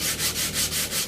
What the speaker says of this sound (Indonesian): Kadang-kadang kita harus amplas,